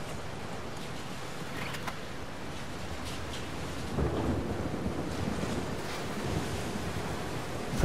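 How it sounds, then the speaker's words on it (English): A thunderstorm in The Last of Us Part II rumbles low and distant under steady rain and wind, swelling slightly in the middle with a faint roll of thunder; no speech. "I think it might be a thunderstorm, actually"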